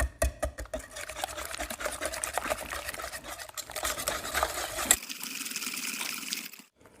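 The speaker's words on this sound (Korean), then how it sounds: "휘스크로 해서 잘 섞어줍니다" A whisk beats four spoonfuls of cooking oil into mashed banana batter, making fast rhythmic tapping and swishing against the bowl. The whisking is loud at first and then drops to a quieter hum before fading out.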